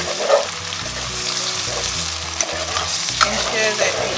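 Mee rebus ingredients are stir-fried in a wok over a high flame, with a steady loud sizzle and repeated scraping strokes of the spatula running through the whole stretch.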